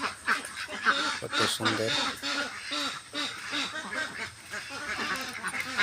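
A large flock of ducks on water quacks and honks in a busy, overlapping chorus close by, while someone talks over the birds.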